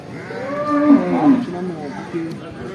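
A buffalo calf at Kollannur market lets out a loud, drawn-out moo of about two and a half seconds, close by, with a brief second call near the end.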